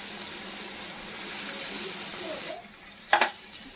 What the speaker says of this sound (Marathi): छान आधी तेलावर फ्राय होऊ द्या मस्तपैकी